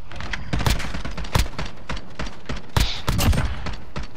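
Rapid gunfire bursts in Call of Duty: Modern Warfare multiplayer, loud sharp volleys and scattered shots with several heavy cracks standing out over continuous battle noise, no talk.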